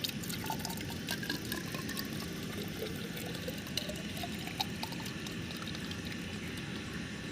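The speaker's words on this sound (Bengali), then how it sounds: "এটার মধ্যে পুরো জল ভরে দিই" Water pours steadily into a water bottle in a continuous, faint splashing and gurgling stream that holds at the same level throughout, with no voices.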